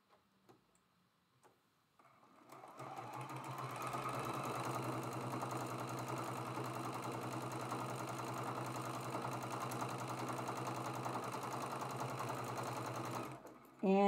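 A sewing machine stitches the seams of a traditional Maple Leaf quilt block made from half-square triangles, running fast and steadily up close for about eleven seconds after a quiet start, then stopping abruptly.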